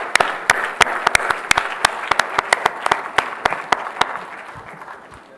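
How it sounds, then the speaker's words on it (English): Audience applause for contest winners called on stage at an event, a scattered round of clapping from a modest crowd with sharp individual claps standing out, fading toward the end. "Let's clap, let's give them a round of applause."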